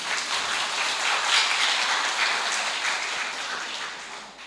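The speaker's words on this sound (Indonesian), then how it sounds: "Tepuk tangan dulu." Dense, steady clapping from a church congregation at the opening of a Protestant church session in Waimahu, Ambon, a continuous hiss of many hands heard throughout.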